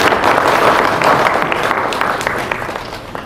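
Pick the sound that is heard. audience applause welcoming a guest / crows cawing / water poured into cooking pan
audience applause welcoming a guest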